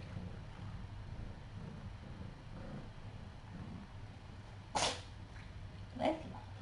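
Two short, sharp sneezes stand out over a steady low hum, the first near the middle and a second about a second later, both close and fairly loud.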